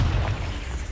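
A Confringo spell explosion in Hogwarts Legacy, heard as a short, loud, deep boom with a rumbling burst that fills the whole moment.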